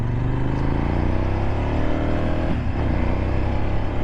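A 2024 CFMoto 800NK motorcycle being ridden, its engine holding a loud, steady drone close by with a brief dip in throttle partway through, mixed with road and wind noise.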